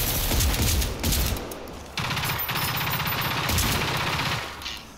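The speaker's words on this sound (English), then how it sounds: "Firing at will." Rapid automatic gunfire from the video game Generation Zero, with loud sustained bursts broken by brief pauses, close and dense with no talking.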